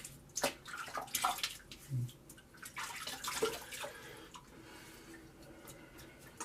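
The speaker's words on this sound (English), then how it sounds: "I'm going to wet the face, and we're going to get ready for pass number 1 with the G-bar" Water splashed onto a face before a shave, heard as a handful of close, soft splashes and drips over a quiet room background, with some trickling toward the end.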